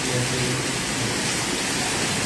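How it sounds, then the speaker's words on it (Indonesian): Steady, loud rain pouring down as a constant dense wash of noise with no pauses, heard alone without any talk. "hujan berkah."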